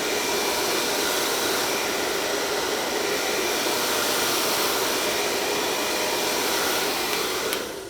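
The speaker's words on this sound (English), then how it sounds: "we come in with a hairdryer." A hairdryer blows a steady, loud, broadband rush of air close by for the whole stretch, used to set styled hair, with no talking.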